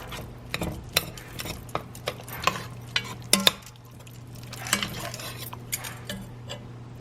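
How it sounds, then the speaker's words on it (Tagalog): Ground pork simmering in boiling coconut milk with chili, onion, garlic and ginger for ginataang gulay, stirred with a utensil that clinks and scrapes against the pot in irregular knocks over a low steady bubbling hum. "nagbo-boil na yung ating coconut milk together with our ground pork and then yung sile, yung onion, garlic, and ginger"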